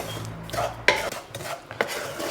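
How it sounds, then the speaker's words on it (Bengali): Semolina dry-fried in a pan on low heat gets stirred with a utensil, giving close, soft scraping strokes and a few sharper clinks against the pan, with no talking. "সুজিটা একটু ড্রাই ফ্রাই করে নেব"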